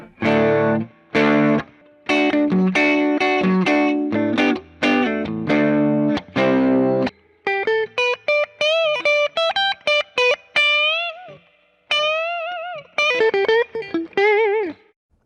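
Loud, heavily overdriven electric guitar through a Fender Blues Jr tube amplifier with the master at 5: thick distorted chords in choppy bursts, then a sustained singing lead line with bends, no talking.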